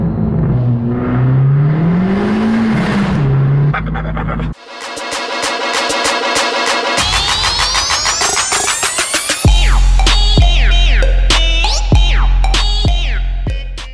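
A modified car revs inside a tunnel, loud and close, with engine tones rising and falling across several hard revs and a harsh, buzzing edge echoing off the walls, with no talking.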